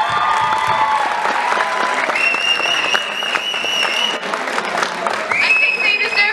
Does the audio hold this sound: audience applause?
yes